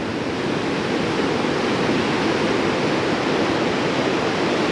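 Large ocean waves breaking at Melasti Beach, a steady, loud, broadband roar of surf with no distinct individual crashes and no voices.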